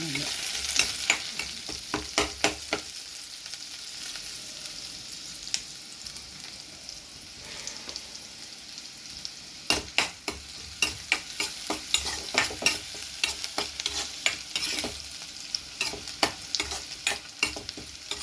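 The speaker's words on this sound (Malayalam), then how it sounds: "സവോള മൂപ്പിക്കണം." Onion sautéing in a pan for a toor dal curry, a low background sizzle broken by repeated sharp scrapes and clatters of a spatula, in bursts then a busier run of stirring near the end, close by with no talk.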